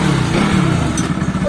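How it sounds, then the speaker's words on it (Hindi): A Bajaj Pulsar RS 200 on its stock exhaust runs at a loud, close, steady engine drone with a slight rise in pitch, brief and uninterrupted by voices. "सबसे पहले आप सभी को स्टॉक एग्जॉस्ट की साउंड सुना देते हैं"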